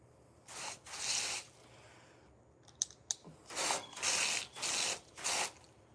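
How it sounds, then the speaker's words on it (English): A hose sprays water in on-and-off bursts onto the bottom of a 20 SEER Ruud AC condenser unit, each hiss close and fairly loud, with a few sharp clicks partway through. "I'm going to start off by spraying on the very bottom to get everything from that's stuck in there."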